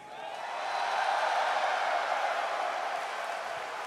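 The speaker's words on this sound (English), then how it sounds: "Can I hear some noise for Radiant?" A stadium crowd at The International 7 Dota 2 tournament in 2017 cheers for Team Radiant, a broad, sustained roar that swells in over the first second and holds steady, with no talk over it.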